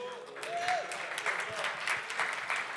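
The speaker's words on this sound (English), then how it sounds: "Could we also have a big round of applause for Mauro and his team?" An audience at a business conference in Ho Chi Minh City applauds a speaker's team, a brief run of moderate clapping with a voice rising briefly over it.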